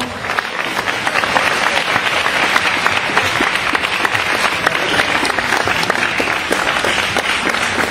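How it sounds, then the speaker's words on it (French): A large crowd at a RHDP political rally in Côte d'Ivoire applauds loudly and continuously, with sustained dense clapping and faint crowd voices underneath. "On va l'applaudir encore plus fort"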